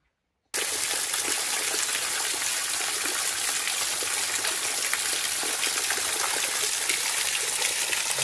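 Continuous rushing, splashing water of a waterfall in the Grampians pours without pause after a moment of silence, loud and close, with no voices.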